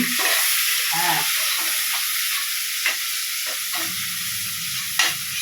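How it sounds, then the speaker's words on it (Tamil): Onions and green chillies sautéing in a pan, a steady loud sizzle with scraping stirring strokes throughout and brief spatula knocks near the end. "இப்போ வெங்காயத்தை போடுறேன் வதங்கட்டும்"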